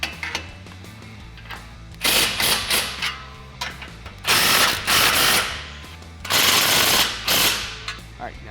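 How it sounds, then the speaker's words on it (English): Ratchet tightening exhaust clamps on a 2014-2018 Silverado 1500 5.3L dual exhaust: loud, close bursts of rapid clicking, several separate runs with short pauses between them. "go back through all those clamps and make sure you tighten them down and torque them to spec"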